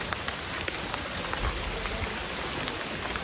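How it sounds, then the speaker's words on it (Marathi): Rain falls steadily at Vishnu Theertham in Gokarna, an even, close hiss of drops striking surfaces with occasional louder patters, heard alone with no voices. "इकडे पाऊस पडतोय"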